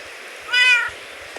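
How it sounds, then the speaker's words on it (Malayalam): A house cat lets out one clear, short meow close to the microphone. Quiet room tone surrounds it. "ഈ പൂച്ച എന്തിനും ഇവിടെ വന്നിരിക്കണം?"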